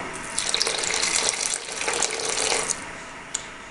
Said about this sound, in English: I'm going to pour a little bit of that in the center as well.